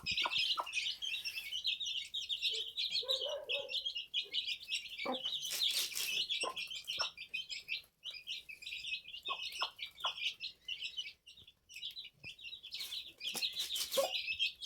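Freshly hatched chicks peep rapidly and excitedly while eating, a dense, close chorus of high chirps with soft pecking taps and clucks between.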